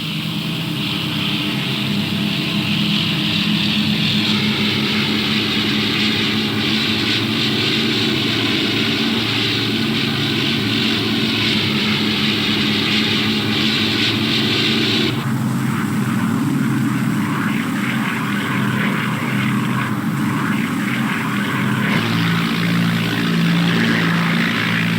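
Fairey Swordfish propeller biplanes fly on patrol from the aircraft carrier HMS Ark Royal, a steady, loud engine drone that shifts in pitch partway through as the aircraft pass, with no talking.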